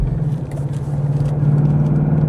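A 2026 Ford Mustang GT Premium with the FX Edition package sets off on a test drive, its engine giving a steady low rumble and hum heard from inside the car.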